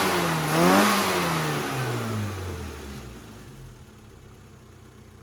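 Car engine after a carburettor tune-up with a new needle and vacuum line, revving up in one strong rise, then winding down through falling pitch toward idle, loud and close with no talk.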